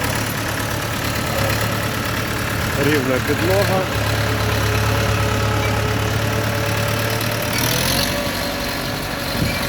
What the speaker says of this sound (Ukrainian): 4-циліндровий дизельний двигун